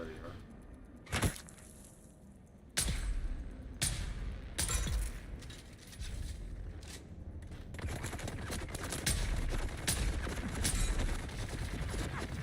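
Sniper rifle fire in the video game Dune, with sharp gunshot cracks spaced apart and then denser firing and impacts, all under a player talking.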